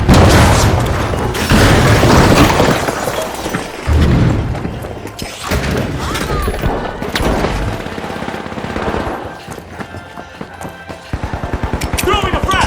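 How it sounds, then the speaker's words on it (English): Explosions and gunfire in the multiplayer shooter game The Finals, including a frag grenade blast among loud booms, rapid shots and thuds, with a voice speaking over the chaotic combat. "Throwing a frag!"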